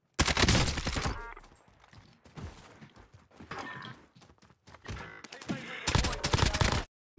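Gunfire in the video game Call of Duty: Warzone, loud bursts of rapid automatic shots at the start and end with quieter scattered shots and game noise in between.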